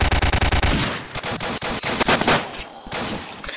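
A sidearm fires in a Roblox apocalypse game, first as a fast close run of sharp shots, then as scattered louder single reports and bursts.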